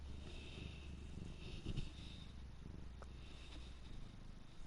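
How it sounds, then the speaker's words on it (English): A cat rests in someone's lap purring, a faint, close, low pulsing rumble that runs steadily through the whole stretch with a little quiet background noise and no talk. "I'm kind of got a cat in my lap. He's purring."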